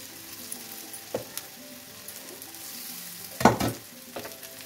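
Jackfruit pakoda deep frying in hot oil gives a steady, close sizzle, with a few sharper crackles and bursts near the middle and end.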